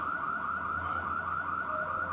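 An electronic alarm blares without stopping inside a museum at Fort Recovery, a warbling tone that rises and falls in quick, regular cycles, loud and steady, with no one speaking.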